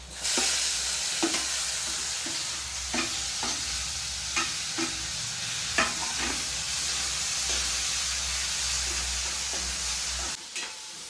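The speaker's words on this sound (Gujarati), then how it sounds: "તો સરસ મજાના ટમેટા આપણે પાકી ગયા છે" Tomatoes and onions cooking in hot oil in a pan, a continuous sizzle broken by repeated spatula stirs and scrapes at an uneven rhythm, close and moderately loud, with no talk.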